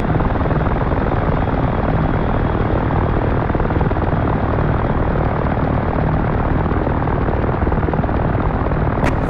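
Ka-50 helicopter engine and rotors in the DCS flight simulator, a loud, steady, dense roar that holds unbroken throughout with no voices.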